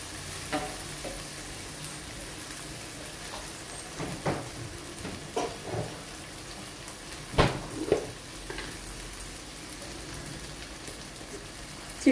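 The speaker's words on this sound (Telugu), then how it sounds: "ముందుగా కట్ చేసి ఉంచుకున్న బంగాళదుంప వేస్తున్నానండి।" Medium-sized potato pieces dropped into a hot pan sizzle with a soft, rain-like crackle, broken by scattered stirring knocks and clatters at moderate volume; no talking.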